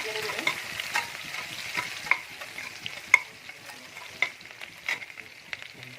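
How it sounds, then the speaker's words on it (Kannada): Curry leaves and onions fry in hot oil while being stirred for a village-style country chicken curry. There is a steady sizzle, and a utensil scrapes and knocks against the pan several times. "ಈಗ ಕರಿಬೇವು ಹಾಕ್ತಾ ಇದ್ದೀನಿ. ಈರುಳ್ಳಿ ಹಾಕ್ತಾ ಇದ್ದೀನಿ."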